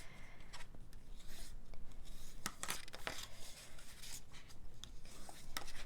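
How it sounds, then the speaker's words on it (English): Bone folder rubbing and burnishing along folded paper score lines, soft scratchy strokes with crisp scraping accents, close and quiet. "use my bone folder to burnish them"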